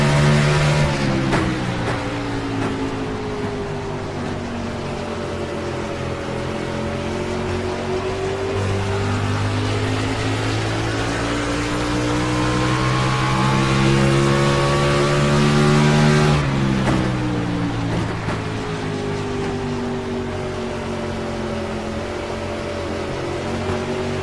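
Onboard view of NASCAR-style race cars at New Hampshire in the iRacing sim, with a loud steady engine drone and shifting harmonic whine as revs rise and fall, and one sharp dip and recovery midway.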